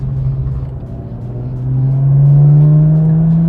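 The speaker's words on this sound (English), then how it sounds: "Taking off, you can hear that engine warming up." A six-speed BMW M2 CS pulls away on a cold engine, its exhaust a loud, steady low drone held at low revs that climbs gently in pitch as the car gathers speed.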